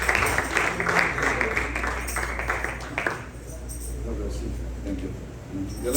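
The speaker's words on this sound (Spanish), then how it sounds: "Y den un fuerte aplauso a nuestro pastor, hermanos" Church congregation applauding the pastor: a dense wash of clapping from many hands for about three seconds, fading into a low room murmur with speech over a steady hum.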